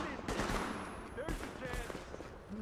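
Bursts of gunfire from the video game Tom Clancy's The Division crackle in rapid, dense volleys throughout, with a voice talking over the shooting.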